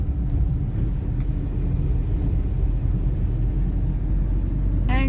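Traffic near the Dwarkadhish temple in Dwarka, a steady low rumble of engines and passing vehicles, loud and close, with a brief horn-like tone near the end.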